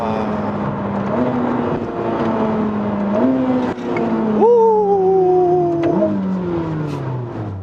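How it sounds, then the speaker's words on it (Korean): A Ferrari hybrid with a 780-horsepower V8 turbo engine runs in qualify mode, its engine tone climbing steadily through several gear steps. It is heard from inside the car at a strong, sustained level. "엔진, 그러니까 V8 터보 엔진인데 이 좀 상위 엔진이에요"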